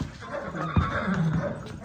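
A Nukra mare whinnies close by, one shrill, wavering neigh lasting about a second over steady background noise.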